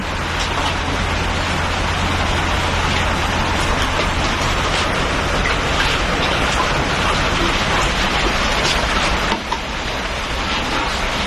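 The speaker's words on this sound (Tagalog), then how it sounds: "O, di ba umuulan?" Steady rain falls continuously for the whole stretch, a dense, loud hiss of drops that stays even throughout with no talking over it.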